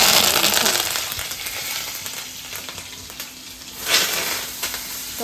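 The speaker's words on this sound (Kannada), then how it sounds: "ಹಾಕೊಂಡು ಅದು ಒಂದು ಸ್ವಲ್ಪ ಫ್ರೈ ಮಾಡಿರಿ ಚಲೋ" Onion, coriander and curry leaves fry in a pan with a steady, close sizzle that holds throughout and rises in a brief louder burst near the end, with no talking over it.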